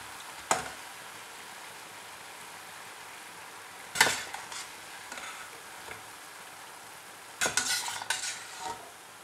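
Rava bonda deep-frying in oil hisses softly and steadily, punctuated by a few sharp clinks and scrapes of a spoon stirring through the pan at irregular moments.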